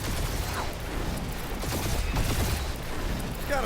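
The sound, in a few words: gunfire in the video game Marvel's Guardians of the Galaxy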